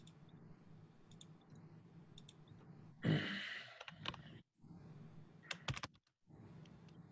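Someone types an email address on a computer keyboard in short bursts of quick key clicks, with brief pauses between runs. The clicking is close and fairly quiet against a faint room hum.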